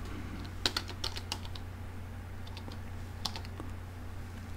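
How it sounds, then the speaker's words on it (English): Someone types a URL on a keyboard while setting up a browser on an Amazon Fire Stick, producing light, close key clicks in short uneven clusters over a steady low hum, with no talking. "Now I got to type in the URL we need to get a browser."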